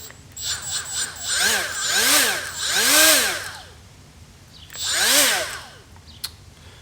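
A Milwaukee M12 2485-20 cordless die grinder spins up in several short bursts, each a rising then falling high whine with a steady motor drone between pulls, close and loud, with no voices.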